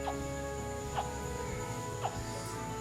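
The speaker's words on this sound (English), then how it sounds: "That's the sound of a little alligator saying, help me out, help me mum" Three short, high chirping grunts from a baby alligator, spaced about a second apart, over a steady low hum of background noise.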